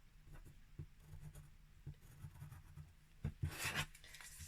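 A pencil scratches around a card star template in short, quiet strokes with light rubbing, close and alone, ending in a brighter, firmer scrape.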